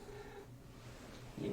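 A cat purring softly and steadily nearby in a quiet room, a low continuous rumble ending with a slightly louder rustle.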